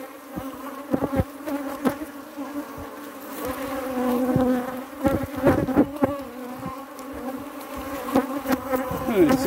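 Honey bees buzz densely around an open beehive during a honey harvest, a close, constant hum with individual bees zipping past the microphone.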